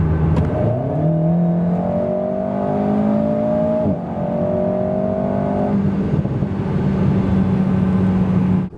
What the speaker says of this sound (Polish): Oraz takie od 90 do 140 km na godzinę.